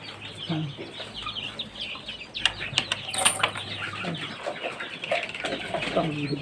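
Egyptian Fayoumi chickens cluck and call intermittently at moderate distance, with occasional wing flaps and scratching over a low background hum.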